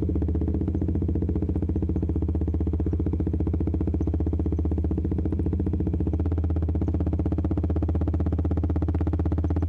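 Motorcycle fitted with a Proliner TR-1R short silencer exhaust idles and revs steadily and loudly up close, a dense, continuous rumbling pulse with no talk over it.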